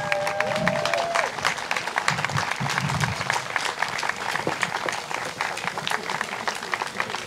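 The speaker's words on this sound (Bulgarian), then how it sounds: "Аплодисменти за вашите победители от клас Pro 2!" Crowd applauding and cheering winners of the Pro 2 class at a Soul Drift round, steady dense clapping throughout with a loud amplified announcer voice at the start.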